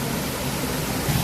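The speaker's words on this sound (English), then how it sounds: "There's the waterfall." Taman Sari waterfall in Bali roars as a steady, dense rush of falling water, loud and unbroken, with no voices over it.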